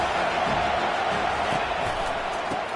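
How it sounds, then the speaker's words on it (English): A football stadium crowd keeps up a steady roar of cheering and noise, with occasional louder shouts rising through the din. "This crowd bringing the energy and noise early."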